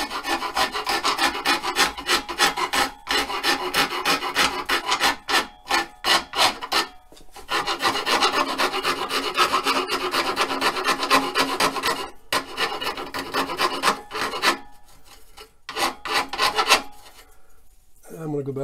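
Coarse abrasive rasps steadily against a wooden drumstick in close, continuous back-and-forth strokes, with short pauses between bursts and no talking.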